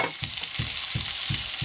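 Onion sautéing in a hot pan for ginataang kalabasa with string beans and shrimp, a constant loud sizzle with regular stirring scrapes about every third of a second, close and without talk.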